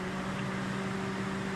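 Car radiator cooling fans run with a steady, even whir and a constant low hum, alone and unchanging throughout.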